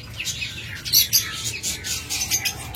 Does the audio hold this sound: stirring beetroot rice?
no